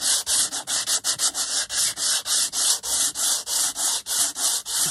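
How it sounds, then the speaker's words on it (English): A nail file sands a napkin-covered junk journal cover in steady back-and-forth strokes, producing a dense, loud rasping hiss close up, with roughly twenty regular strokes and no speech. "is I'm going to sand it down a bit"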